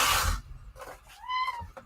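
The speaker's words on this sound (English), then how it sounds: "Hey, cat, what's up?" A domestic cat gives a short, clear meow with a rising and falling pitch, close to the microphone, preceded by a brief rustle and followed by quieter shuffling sounds.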